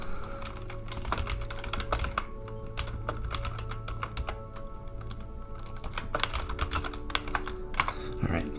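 Rapid clicking of a computer keyboard as someone types into chat in the Avorion multiplayer space game, keystrokes close and continuous in irregular bursts over a low background hum.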